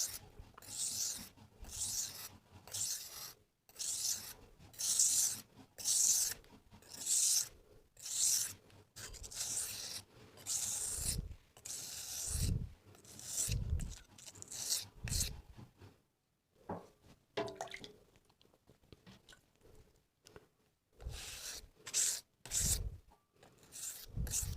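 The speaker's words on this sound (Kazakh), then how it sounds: "Сондықтан жүзіне қарсы қайрап, жүзін әдемілетіп аламыз." A household kitchen knife is honed on a whetstone with a good technique, the blade giving rhythmic rasping strokes that repeat at a steady back-and-forth pace, close and fairly quiet, with a few pauses between sets.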